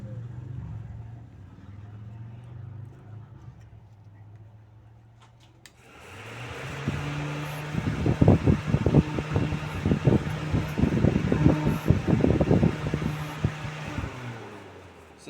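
Honda electric radiator cooling fans fitted to an RX-7 radiator on a Camaro, starting with a quiet hum before switching to a steady loud whooshing roar with irregular rumbling bursts layered on top.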